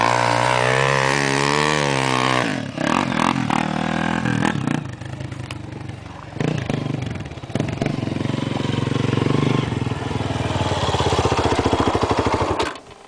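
A motorcycle engine revs loudly and close, rising in pitch with rough, clattering bursts of throttle, then dropping back and revving again, with no talking.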